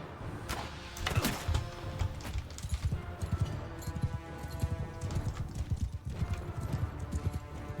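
Horse hooves clip-clop in a galloping rhythm during a battle in the video game Bannerlord, steady and fairly close, with a few heavier impacts early on and no talk over them.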